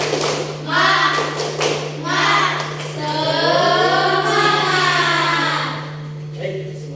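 A group performs a rhythmic spirit clap, sharp hand claps in bursts mixed with loud chanted, sung-out voices, close and energetic, at a morning gathering.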